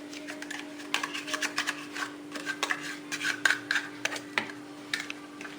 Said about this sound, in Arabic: وغادي نخلطوه مع الكاس نتاع الياغورت تاع الشيكولا.